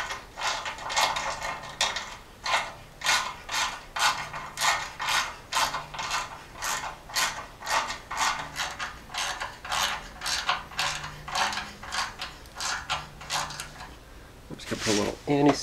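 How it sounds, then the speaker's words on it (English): A thread tap is being worked through threaded holes inside the frame of a 1978 Jeep J10, giving a close, rhythmic series of sharp metallic ratcheting clicks in bursts, with a short clatter at the end. "I'm going to run a tap through these since these are threaded inside the frame just to clear them up"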